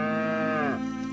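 A cow gives a single loud, sustained moo, close by and alone, its pitch dropping toward the end.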